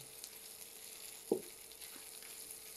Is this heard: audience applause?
no